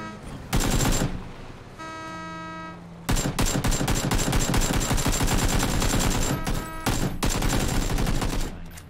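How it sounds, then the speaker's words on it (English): Gunfire in the battle royale game PUBG, with automatic bursts and rapid shots rattling loudly and closely, a brief lull with a tonal hum, then sustained firing in dense volleys. "I'm getting shot from the hotel"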